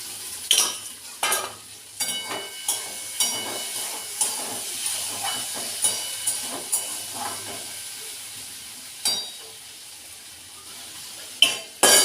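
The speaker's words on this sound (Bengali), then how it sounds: "আলু ভাজাটা নেড়ে দিলাম" Potato fry being stirred in a frying pan: a steady oily hiss and sizzle broken by a regular series of scraping, clattering strokes, close and distinct, with no talking.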